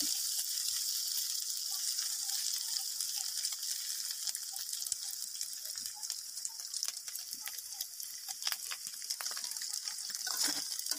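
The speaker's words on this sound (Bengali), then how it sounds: "এরপরে তোমরা এইভাবে ডিমটা দিয়ে এটাকে ভালো করে ভেজে নেবে।" Egg frying in a pan while noodles are cooked, giving a soft, steady sizzle with faint crackles and occasional stirring sounds throughout.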